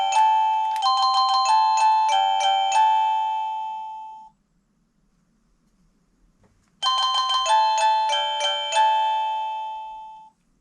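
A wireless doorbell receiver plays a bright multi-note electronic chime melody, pauses for a couple of seconds of near silence, then repeats the same tune clearly and loudly.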